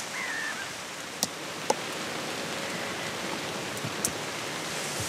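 Steady rain falls in a continuous hiss, with a few sharper drips and taps standing out against the even wash of sound.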